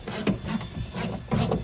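Large 17mm roof bolts being worked loose on a Ford Escort Mk4 Cabrio, a close rhythmic ratcheting and rasping metal sound repeating in three or four strokes.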